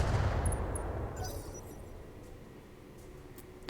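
Mech weapons firing in the BattleTech video game, a loud burst of gunfire and impacts up front that fades into a rumbling decay, with a faint metallic clink near the end.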